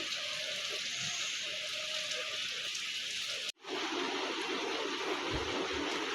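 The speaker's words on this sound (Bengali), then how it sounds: "খুব জোরে বৃষ্টি পড়ছে" Heavy rain pouring down outdoors after falling since the night before, a steady dense hiss throughout with a brief dropout midway, no talking.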